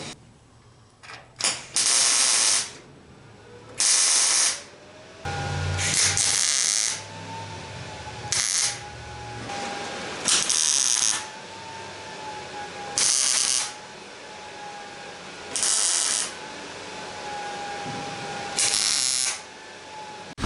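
A welder lays a series of short tack welds on a steel patch piece in the driver's side window pillar of an airport limousine. About eight crackling bursts of a second or two each are separated by quiet pauses, with a faint steady tone underneath.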